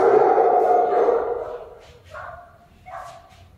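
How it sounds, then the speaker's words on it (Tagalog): A dog barks a few times during a training session on the place command, sharp yips standing out at moderate distance after an opening stretch of louder mixed sound. "Tahol ng aso."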